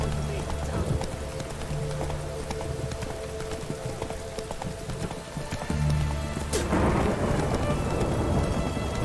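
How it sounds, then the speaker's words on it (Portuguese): Heavy rain and rumbling thunder in The Witcher 3: Wild Hunt, a constant downpour under deep low rumbles, with clopping horse hooves, game music and voices over it. "Tá chovendo forte, hein?"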